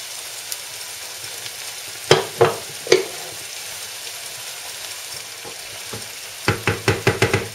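Red bell pepper and noodles stirred in a pan over low heat, giving a soft sizzle under several sharp utensil knocks and scrapes, one cluster early and a quicker run of clacks near the end.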